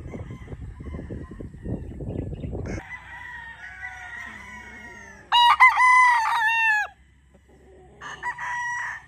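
Rooster crowing among farm chickens, a loud close crow with a shorter second crow after, following clucking and scratchy farmyard noise.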